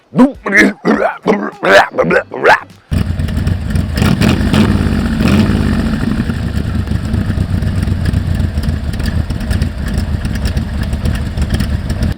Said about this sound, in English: she is just running spectacular. I mean, starting right off the bat, it's got this amazing sound.